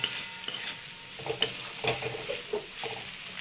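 Sweet potato leaf curry with chilli powder is stirred and fried in a pan, giving soft irregular scraping and clinking strokes over a quiet background sizzle, close up and with no talking.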